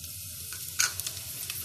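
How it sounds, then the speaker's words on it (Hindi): Cumin seeds dropped into 4 to 5 spoons of hot oil in a pot, a quiet close sizzle with a few sharp crackles and pops scattered over a second and a half. "अब एक बर्तन में मैंने 4 से 5 चम्मच ऑयल के लिए हैं और इसमें डालूंगी मैं ज़ीरा"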